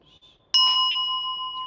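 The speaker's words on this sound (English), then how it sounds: "The bell sound" A single bell is struck during a Buddhist bell song at a sutra lecture, giving one sharp metallic strike that rings on with a clear, sustained, slowly fading tone.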